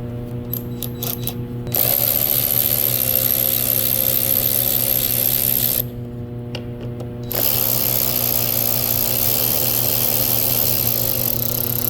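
An Omlepai 21V cordless electric ratchet wrench runs with a loud, steady mechanical whir, starting after a short pause, stopping briefly near the middle, then spinning up again and holding to the end.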